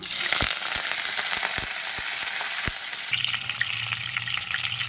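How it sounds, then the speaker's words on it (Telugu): Curry leaves hitting hot oil with fried green and dried chillies, a loud, bright crackling sizzle with sharp pops early on, settling into continuous frying close by. "పచ్చిమిర్చి ఎండుమిర్చి వేగినాయండి ఇందులో కరివేపాకు వేసుకోవాలి"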